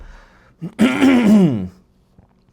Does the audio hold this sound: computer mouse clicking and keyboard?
no